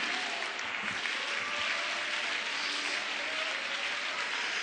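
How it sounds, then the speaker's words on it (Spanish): A church congregation claps together in sustained, even applause, a dense wash of hands that holds steady throughout without pause. "No de medio aplauso, de un aplauso completo"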